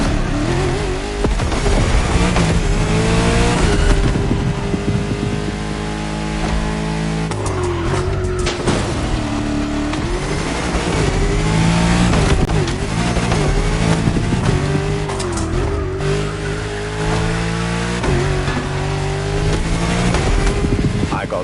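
Aculone automobile, a French luxury car, driven hard in The Crew Motorfest: loud revving engine with shifting pitch and repeated tire squeals and skids, continuous and close throughout.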